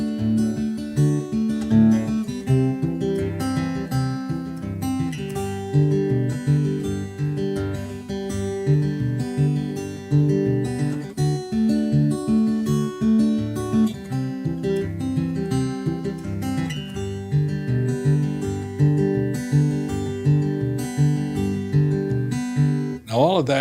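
Guitar Travis picking pattern played up to speed in a straight feel, a steady alternating bass under picked treble notes, continuous and fairly quiet throughout with no talking.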